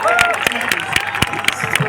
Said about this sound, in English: Give a big round of applause, everyone.